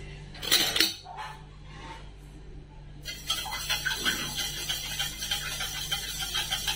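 A metal spoon stirs sugar into water in a glass for lemon sherbet, giving a couple of clattering knocks and then a steady run of quick, bright clinks against the glass.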